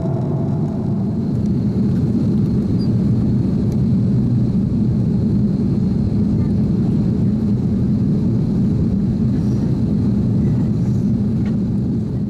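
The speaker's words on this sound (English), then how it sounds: "the plane started to decrease altitude in preparation for landing" Steady, loud engine drone inside an airplane cabin, a constant low rumble with a faint high whine, unbroken throughout.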